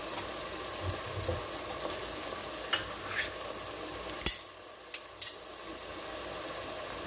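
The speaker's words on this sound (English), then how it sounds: "You hear it sizzling?" Steady frying sizzle from a pan of beef goulash, a constant crackling hiss with a few sharp clinks and scrapes of a utensil stirring.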